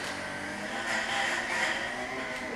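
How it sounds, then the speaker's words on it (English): A weed eater and a lawn mower run outdoors in a backyard, giving a steady, fairly faint motor drone with a slight rise and fall in pitch and no talking. "weed eating and mowing our lawn,"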